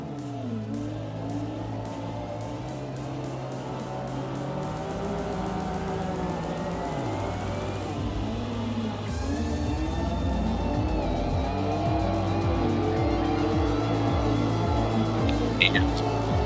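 Drift cars race fast around a street course at a TOP32 drifting round, engines revving and droning with rising and falling pitch throughout, close and loud, with tire noise and voices over them.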